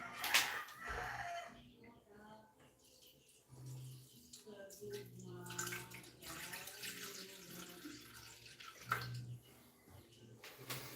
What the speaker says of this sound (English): I'll go ahead and just put a little bit of water in here again, so that way the seal is safe